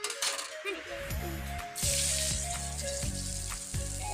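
Hot oil sizzling and frying steadily in a pan while pork curry is being cooked, a continuous close hiss with light clinks of utensils, louder from midway on.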